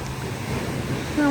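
Sea waves wash at the Gili Islands near Bali as a steady, mid-loud rush of surf mixed with wind buffeting the microphone, with no voices.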